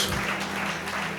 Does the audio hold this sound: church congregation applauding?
yes